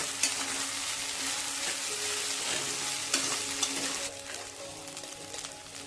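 Sabudana and peanut powder sauté in a hot pan, with a continuous close sizzle and occasional scraping stir sounds.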